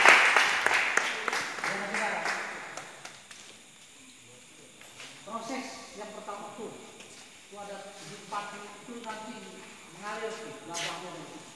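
An audience claps briefly at a public gathering in Indonesia, a burst of applause at the start that fades within a few seconds before someone speaks loudly over a microphone.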